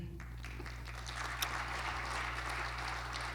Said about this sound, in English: Let's give a round of applause to Marcell Kenesei